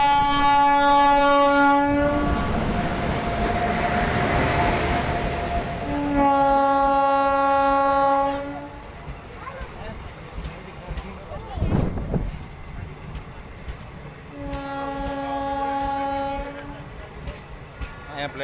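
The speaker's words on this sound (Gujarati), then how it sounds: "આ ટ્રેન આવી ગઈ છે." A train pulling into a village station with a low platform, sounding long horn blasts three times over the rumble and clatter of wagons, with voices of waiting passengers nearby.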